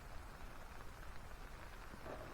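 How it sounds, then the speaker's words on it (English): Steady, faint rain falling at a snowy campsite beside a stream, an even hiss of drops with no voices, continuous throughout. "It's raining."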